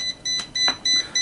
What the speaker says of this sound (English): I'm going to switch off that beeping.